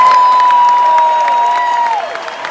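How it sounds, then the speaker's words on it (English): An audience applauds at an evening speech event. Dense clapping forms a steady, fairly loud bed under a sustained high whistle-like tone that bends downward near the end. "I'd like to give them a round of applause"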